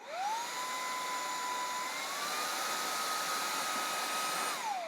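A small handheld cordless car vacuum motor whirs up to a steady, high-pitched hum, rises slightly in pitch partway through, then winds down at the end.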